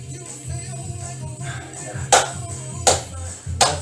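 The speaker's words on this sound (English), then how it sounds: "Clap along wherever you are." A few sharp hand claps, roughly three spaced about a second apart, ring out over steady background music during a workout session.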